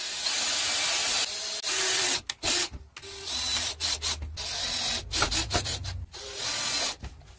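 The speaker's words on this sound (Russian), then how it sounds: "С одной стороны закручиваем 5 саморезов рядышком." A power drill drives five wood screws into a board, with repeated whirring bursts that start and stop, separated by short pauses and rubbing handling sounds nearby.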